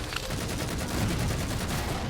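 Jackals in Halo 4 fire charge shots in a rapid, evenly pulsed stream of energy bursts, loud and continuous against a busy battle background.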